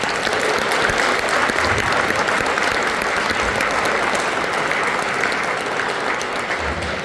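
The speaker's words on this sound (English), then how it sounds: "let's give them a big round of applause" Sustained applause from a concert audience after a university symphonic band performance, dense and steady clapping filling the room for the whole stretch without pause.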